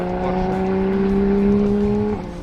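A VW Scirocco lapping the Nemuno Žiedas circuit, its engine holding a loud, steady droning tone that drops away near the end, heard close from on board with no talk.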